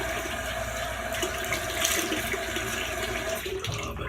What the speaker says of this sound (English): I'm going to put some cold water on